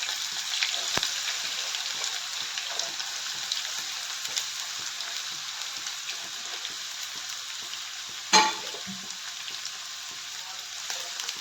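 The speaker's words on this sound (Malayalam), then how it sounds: "എണ്ണ ചൂടാകുമ്പോഴേക്കും അതിലേക്ക് നമുക്ക് പാവയ്ക്ക ചേർത്ത് കൊടുക്കാം" Sliced bitter gourd frying in hot oil in a pan for a Kerala pavakka kichadi, a steady close hiss of sizzling with a brief louder clatter partway through.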